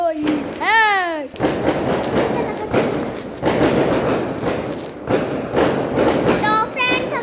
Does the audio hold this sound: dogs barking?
no